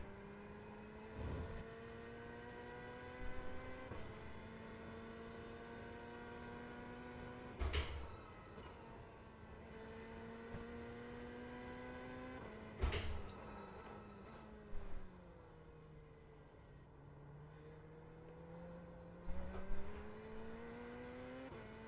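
LMP3 race cars passing on track, engines droning and shifting pitch at a distance, with several sharper whooshes or clunks punctuating the steady roar.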